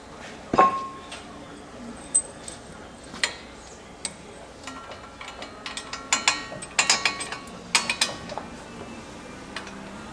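A new front wheel bearing being fitted into a car hub, followed by bolts. It comes through as scattered metallic clicks, ratcheting ticks and small knocks at an uneven pace. The sound is close and fairly quiet, with no talking.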